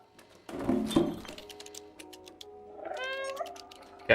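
A cat meows, with a short thump and a faint clink first, then a clear drawn-out meow near the end, close by in an otherwise quiet room.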